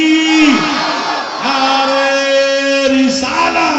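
A large crowd at an outdoor religious gathering roars back in unison to the Takbir slogan, sustained loud chanted shouting that swells, breaks off briefly and rises again, heard close and dominating.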